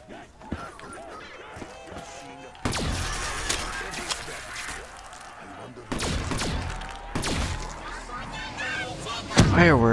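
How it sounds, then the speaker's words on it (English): Fireworks in a Black Ops 3 zombies match burst as repeated heavy booms and crackling blasts over dense game noise, with players talking throughout. "Fireworks."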